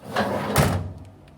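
A metal grill grease drawer holding the grease tray slides open or shut with a short scraping rush and a thud, followed by a few faint clicks.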